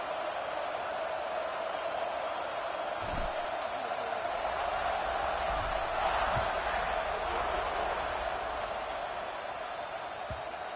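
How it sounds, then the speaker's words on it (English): Stadium crowd in the NCAA College Football 26 video game, a steady broad roar of fans at a kickoff that holds level throughout and swells slightly midway, with a few soft thumps underneath. "this crowd is feeling themselves after that last drive"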